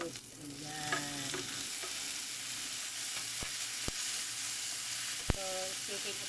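Tomatoes sizzle steadily in a frying pan while a utensil stirs them, giving a constant frying hiss broken by a few sharp scrapes and clicks, close and clear, with brief faint voice fragments near the start.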